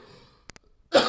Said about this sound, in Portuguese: desculpa, essa tosse não me larga